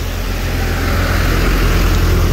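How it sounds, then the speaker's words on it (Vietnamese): A 2013 Hyundai Avante's engine idles smoothly without shaking, heard up close as a steady, even low hum with constant loudness and no talking. "đặc biệt là máy thì hiện tại là đang nổ rất là êm, không có rung giật"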